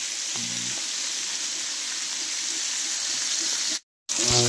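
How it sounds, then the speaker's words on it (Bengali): Rohu fish frying in a pan gives a steady, hissing sizzle that runs nearly unbroken, with a brief voice at the start, a short cutout near the end, and talk returning right after it. "প্রথম মাছ ভাজাটা হয়ে যাচ্ছে"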